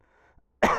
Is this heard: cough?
yes